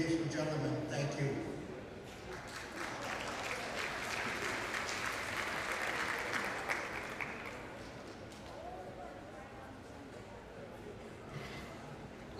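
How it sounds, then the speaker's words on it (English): An audience at a treaty gathering breaks into sustained applause, a dense wash of clapping that swells, holds for several seconds, then thins out, with a speaker's voice heard before and after. "Let's give Eric DeTusis another big round of applause."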